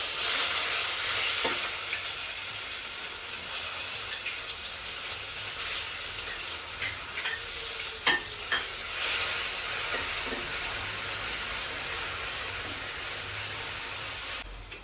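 Onion paste roasts in a hot pan with a steady, close sizzle and hiss, broken by occasional stirring scrapes and clicks; no one speaks.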